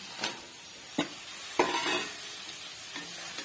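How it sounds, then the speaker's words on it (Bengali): Cut eggplant tossed into a spice paste in a hot pan, giving a steady sizzle with several sharp stirring scrapes, close and fairly quiet, no talking. "এর মধ্যে এখন দিয়ে দেব কেটে রাখা বেগুন।"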